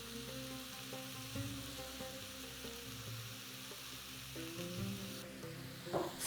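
Ground turkey and peppers with black pepper, cumin and paprika cooking in a pan: a steady, quiet sizzle with a faint stirring scrape near the end, no voices.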